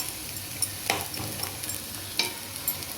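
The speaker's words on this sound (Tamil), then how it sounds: "வாழைத்தண்டு அடை வெந்துக்கிட்டு இருக்கு இப்போ திருப்பி போடுவோமே" Banana stem adai cooking on a hot pan gives a steady low sizzle with a few brief spatters and scraping clicks, close and fairly quiet, with no voices.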